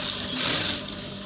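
A sewing machine stitching trouser fabric, sewing a pocket piece in place, heard as a brief, close, continuous mechanical whir.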